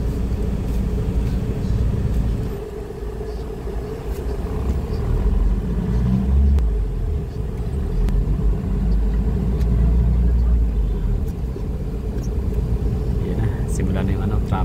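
Road traffic heard while riding along a city route toward Davao City International Airport: a constant low engine and tire rumble that swells and eases slightly, with voices faintly present over it.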